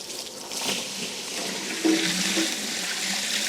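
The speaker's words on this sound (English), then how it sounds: "Let's see how the water exits out of the bucket as the angle changes" Water pours and splashes out of the bucket of an overshot waterwheel as it tips, a steady rushing gush heard close with a slight surge midway.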